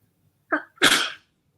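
A single sharp sneeze, close and loud, with a short breathy intake just before the explosive burst, then silence.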